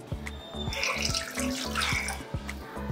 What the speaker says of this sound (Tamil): இன்னும் கொஞ்சம் தண்ணி ஊற்றி நம்ம வந்து நல்லா தண்ணி ஆக்கிக்கலாம்